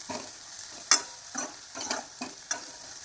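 Garlic paste frying in a pan while a spoon stirs it, giving soft sizzling with several distinct scraping strokes at a steady rhythm, close and fairly quiet, with no voices.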